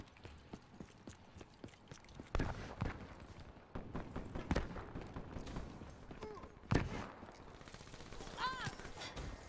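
Gunfire in Call of Duty: Black Ops 3 multiplayer, with sharp rapid shots and bursts scattered across the clip among footsteps and game effects, fairly quiet overall, with occasional voice.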